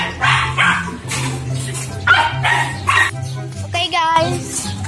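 A family dog barks and yips several times outdoors, with a short whimpering whine near the end, heard under ongoing talk close by.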